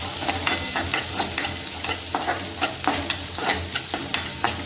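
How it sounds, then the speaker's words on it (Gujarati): Onions frying in a pan with turmeric and salt, stirred with a spatula. Close, rhythmic scraping strokes repeat steadily over a busy crackling sizzle. "અને મિક્સ કરી દઈશું"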